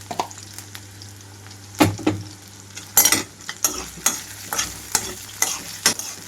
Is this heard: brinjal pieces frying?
yes